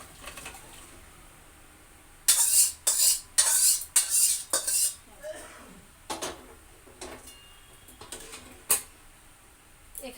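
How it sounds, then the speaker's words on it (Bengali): Dishes and cutlery clink in a quick burst of sharp knocks as egg curry is transferred into a bowl in a home kitchen, followed by a few scattered, quieter taps. "এবারে আমি ডিমের ঝোলটা ওই বাটিটায় দিয়ে, জায়গাটায় দিয়ে বসিয়ে দেব।"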